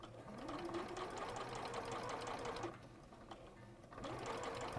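Sewing machine stitching a quilt, a continuous close mechanical whir that pauses briefly before starting again, quiet overall with a faint voice in the background.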